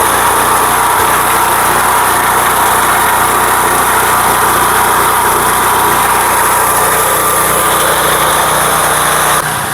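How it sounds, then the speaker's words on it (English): A petrol pressure washer motor runs at a steady, loud, high-pitched buzz that fills the whole stretch without change and cuts off abruptly right at the end. "use the fuel in the carburetor till the motor shuts off by itself"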